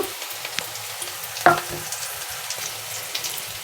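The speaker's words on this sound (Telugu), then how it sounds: "ఉల్లిపాయలు అయితే మనకు బాగా ఫ్రై అయినాయి అందులోనే కరివేపాకు" Onions and curry leaves fry in a pan for mushroom masala curry, a steady soft sizzle with a brief louder crackle burst midway, close and without talk.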